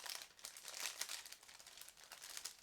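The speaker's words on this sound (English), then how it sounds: "all sprues are packed into the same plastic bag, so just give me a second to open it" A plastic bag holding the sprues of a 1/35-scale plastic model kit crinkles and rustles as it is opened, close and continuous, with no voices.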